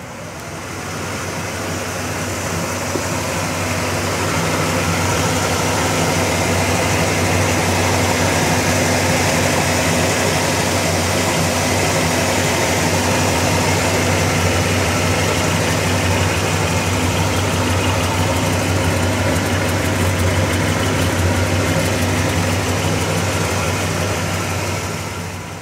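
A 1966 Pontiac GTO convertible with its Tri Power engine idles steadily, a smooth, even low rumble that holds at a constant level throughout with no voices.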